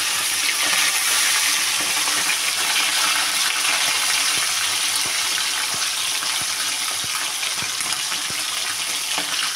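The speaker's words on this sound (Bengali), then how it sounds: "এখন মাছগুলোকে আমি ভেজে নেব।" Bhola fish fry in hot oil in a wok over a lowered gas flame, giving a loud, steady, close sizzle with faint ticks and pops running through it and no voices.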